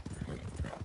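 Hooves of a Dutch Warmblood horse in Red Dead Redemption 2 clip-clop in a steady, close, rhythmic gait, with low thudding footfalls repeating through the short moment.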